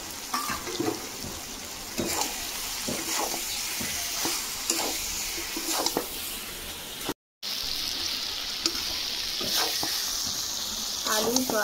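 Potato, soybean and pumpkin being stir-fried with spices in a pan, a steady low sizzle with repeated scraping stirs of a spoon at irregular intervals, close and moderately quiet, briefly cut out midway.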